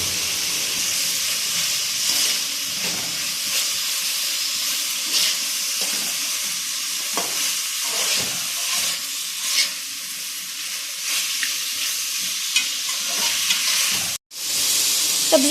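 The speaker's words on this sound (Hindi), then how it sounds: "सब्जियों को हम 1-2 मिनट के लिए फ्राई कर लेंगे।" Vegetables tossed with chili sauce fry in a pan for chicken spaghetti, giving a continuous loud sizzle broken by repeated spatula scrapes and stirring knocks throughout.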